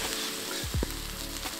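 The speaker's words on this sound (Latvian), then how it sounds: "Laiks to vistiņu palaist pannā, ne vēl?" Chicken frying in a pan over a campfire at night in a branch hut shelter in -15 degree cold, a steady close sizzle with a brief stirring or scraping sound partway through.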